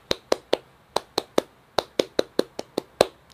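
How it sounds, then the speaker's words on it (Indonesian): Scout clapping pattern (tepuk pramuka) performed by hand: about fourteen sharp, close claps in a quick, uneven rhythm of short groups, loud and alone with no talk. "Tepuk pramuka."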